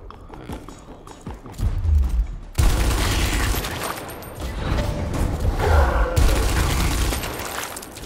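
Gunfire in the tactical video game Gears Tactics, a heavy low rumble giving way to a sudden loud burst of shots and booms, with continued battle noise afterward.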